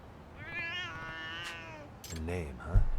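Cats meow in the video game Lost Judgment, a drawn-out rising-and-falling meow followed by a shorter one, close and clear over soft background game ambience, with a brief thump near the end.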